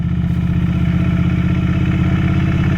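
A motorcycle lugs in first gear at crawling speed while the rider works the clutch. The engine gives a steady, close, heavy chugging pulse with a clattery edge, and no talk.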